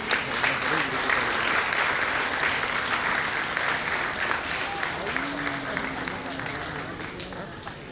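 A large audience at a dance academy's annual celebration claps to welcome young dance students onto the stage, dense sustained applause filling the hall, with a voice talking over it throughout.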